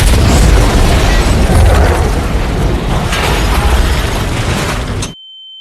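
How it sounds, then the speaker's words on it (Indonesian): A bomb hidden in an ice cream truck detonates in a sustained, loud, dense blast with roaring debris that cuts off abruptly near the end. "ledakan mobil es krim itu"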